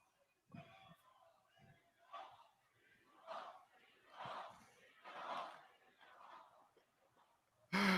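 A large crowd at the 2024 Bitcoin Conference roars and cheers in repeated swelling waves, loud and distant in a big hall, with a few shouts and claps at the start and a sudden loud burst at the end.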